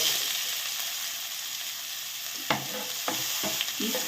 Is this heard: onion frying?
yes